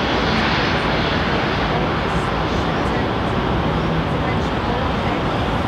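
A British Airways airliner passes at London Heathrow with a loud, sustained jet roar filling the whole stretch, while a voice talks over it.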